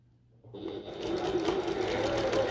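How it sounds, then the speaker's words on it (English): A sewing machine starts up and runs around the top edge of a fabric bucket tote bag, a close, steady rapid whirring that builds quickly and then holds with no speech. "I'm going to sew like this with the foot inside the bag"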